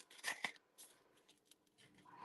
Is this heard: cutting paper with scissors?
yes